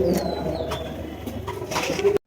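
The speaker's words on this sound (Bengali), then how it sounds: "এখানে রয়েছে একজোড়া ঘিয়াচুলি কবুতর" A pair of ghiachuli pigeons coos close by in a steady, soft murmur with a few faint chirps over low background noise, cutting off abruptly at the end.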